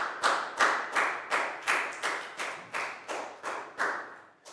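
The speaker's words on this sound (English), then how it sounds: "Big round of applause for Net, guys. And big round of applause for everybody for doing a great job." Year 4 students in a classroom science lesson give a round of applause, about ten evenly spaced, loud hand claps in a steady rhythm that trail off slightly at the end.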